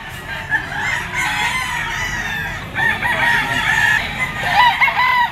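Yellow-legged Kelso bloodline stags at an outdoor poultry market crow repeatedly, several cock-a-doodle-doo calls overlapping at mid distance amid clucking and faint crowd background.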